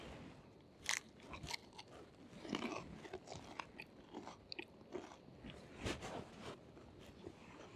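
Someone eating a cranberry cheddar and prosciutto sandwich outdoors on a hike, with close, irregular bites and crunchy chewing sounds over quiet background rustle.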